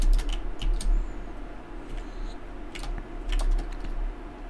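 Keystrokes tapping on a computer keyboard, a busy cluster of quick clicks under a steady background hum of game audio, with a few louder bursts of faster typing.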